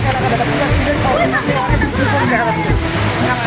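Loud, continuous roar of rushing water close by, a dense wash of falling water with a voice talking over it.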